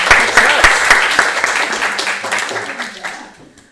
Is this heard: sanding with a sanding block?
no